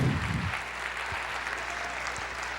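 Congregation applause during a Portuguese-language church sermon, a broad, even clapping wash that carries on steadily at moderate level after a brief low rumble at the start, with no voice heard.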